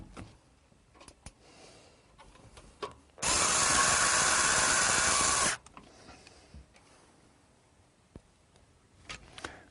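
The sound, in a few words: screws being driven in to secure a PC power supply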